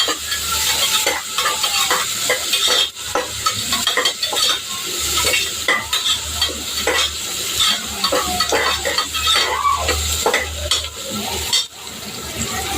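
Three large onions, sliced lengthwise, fry steadily in a pan for biryani, a continuous close sizzle broken by frequent scraping and clattering stirs of a utensil against the metal.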